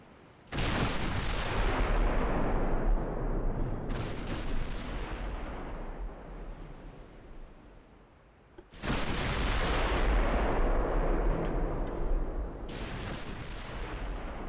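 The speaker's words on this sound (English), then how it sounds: "The first shots ring out from our 14-inch guns." Two thunderous salvos from 14-inch naval guns in a naval warfare video game, each a heavy booming blast followed by long rolling rumble, loud and close with no talk.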